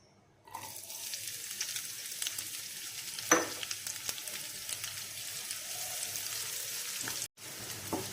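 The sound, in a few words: onions frying and being stirred in oil in a pan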